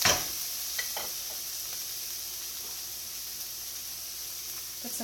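Onions sauteing in a pan give a steady, soft sizzle with faint stirring clicks, heard alone throughout.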